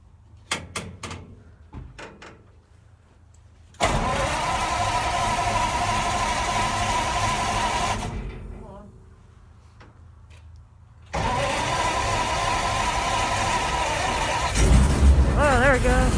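An old engine at a timber heritage museum cranks briefly, then roars into a loud, steady run, dips away, and starts running again, with people talking nearby and clattering knocks before it catches.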